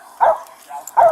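Two loud, close barks from a police dog at an arrest scene, sharp bursts separated by a short pause.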